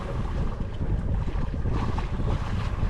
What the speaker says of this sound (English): It was a beautiful day for sailing as I beam reached 20 miles or so along the coast.